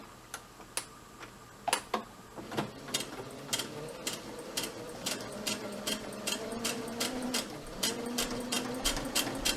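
A sewing machine back stitches fabric for a DIY mask, a quiet run of regular mechanical ticks and clicks with a low motor whir rising in the latter half.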